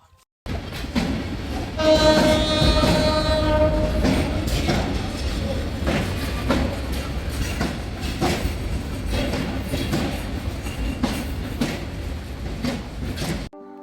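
A train rumbles loudly nearby at Sreemangal railway station with clattering wheels and a long horn blast near the start, continuing as a steady rolling roar.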